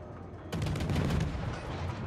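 Rapid gunfire in a fantasy video game battle against a druid, a sudden burst that starts loudly after a quiet moment and continues as dense, sustained shooting and impacts.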